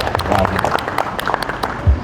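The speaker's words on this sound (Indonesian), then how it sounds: "Kita tepuk tangan dulu ya" A brief patter of applause rises from the audience at a university youth-organization discussion in Malang, scattered claps spreading across a couple of seconds with a low thump near the end.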